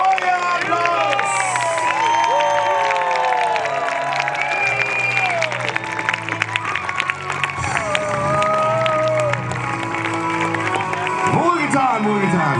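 Crowd at a night joust of the Königstein knights' tournament in Königstein im Taunus applauding and cheering, a dense, steady wash of clapping and shouts close by, with voices calling out over it throughout.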